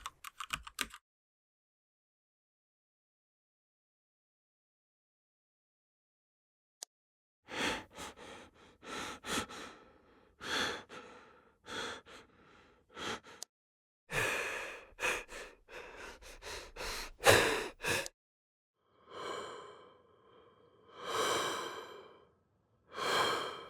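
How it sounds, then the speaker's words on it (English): Synthesized breath sounds made with VARCO Sound, a series of soft airy inhales and exhales in bursts after a long silent gap, fairly close and alone with no talking. "adding more breath sound might be better"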